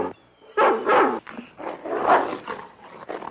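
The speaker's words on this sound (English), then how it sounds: "Oh, that dog, he gives me the yitters." A single dog barks several times in quick succession at close range in an old 1950s horror film scene, the barks loud and clipped with short gaps between them and no talk over them.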